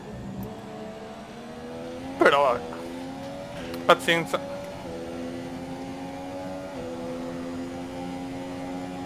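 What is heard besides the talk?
Formula 1 car engine revving in video game F1 2017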